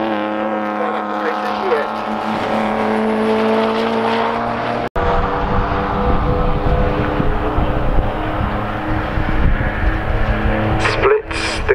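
An Evo 9 GT race car at a Croft time attack event screams past with a loud revving engine, rising and falling through gears, while a commentator talks over the noise.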